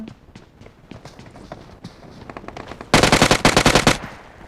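A UMP submachine gun fires in a PUBG-style shooter: footsteps patter first, then a loud rapid burst of automatic fire lasting about a second.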